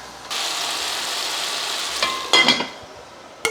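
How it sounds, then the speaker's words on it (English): Potatoes are stirred in bone broth in a pot, giving a steady wet scraping and simmering rustle followed by a few sharper clinks of the utensil against the pot near the end. "Let me give this a stir."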